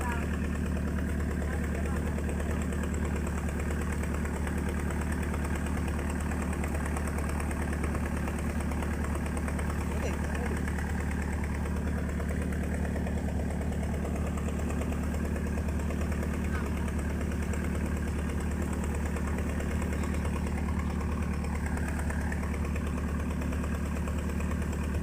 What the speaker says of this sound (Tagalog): Kung inyo maririnig may maingay na motor, yun nga pala ang pump na ginamit natin